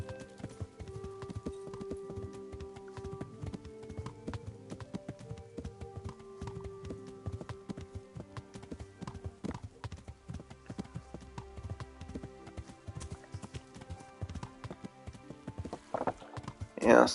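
Horse hooves clip-clop at a steady riding rhythm in the medieval game Kingdom Come: Deliverance, close and fairly quiet under layered game music, with a brief louder burst near the end.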